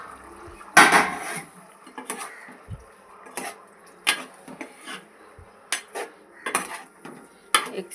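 Boiled eggs dropped into a pan of ridge gourd and tomato curry, with sharp clanks of a metal spoon against the pan in uneven bursts, close and fairly loud.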